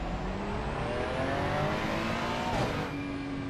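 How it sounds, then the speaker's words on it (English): A race car engine in Assetto Corsa Competizione revs up steadily and loud with a rising whine, drops back briefly near the end, then holds a droning pitch, with no talk over it. "Seems a bit slow to rev up there."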